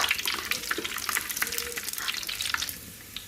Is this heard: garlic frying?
yes